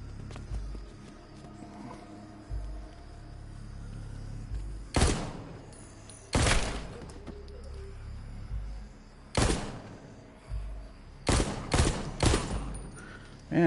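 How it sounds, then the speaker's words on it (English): Gunfire in The Walking Dead Onslaught video game: loud single shots and quick clusters of two or three blasts ring out at irregular intervals over a low droning background, without speech. "Man, Daryl, you suck at shooting."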